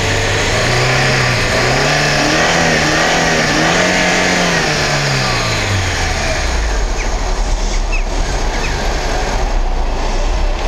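A Renault Duster or Lada Niva 4x4 engine revs and strains climbing a snowy slope, its pitch rising and falling in waves before settling into a steady low drone, loud and close with no talking.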